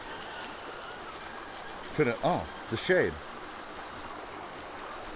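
A rock crawler wheels through water in a canyon trail, with a steady wash and trickle of water throughout while a voice speaks briefly over it.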